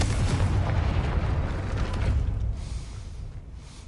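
A spell blast in the Hogwarts Legacy game bursts against a gate as a loud, deep boom with rumbling debris that holds for about two seconds, then fades to a lower, decaying rumble.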